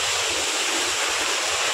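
A rural waterfall pours in a loud, steady broadband roar of falling water, close and unbroken, with no voices.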